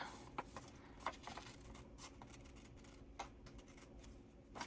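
Scissors snip steadily through a paper figure cut from a craft journal page, quiet close clicks and rustles forming a loose, irregular rhythm with no talking.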